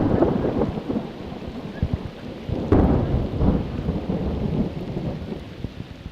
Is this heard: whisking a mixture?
no